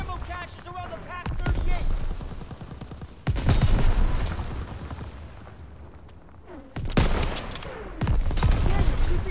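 Gunfire aimed at ammo caches in Call of Duty, with bursts of rapid shots and sharp booming blasts, loud and close, under constant shouting voices.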